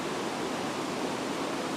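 Rushing water at the head of the Lohkan Lonanyan waterfall, a loud, steady broadband roar that fills the whole short stretch with no voices.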